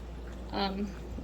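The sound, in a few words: pouring sink water into canning jar of green beans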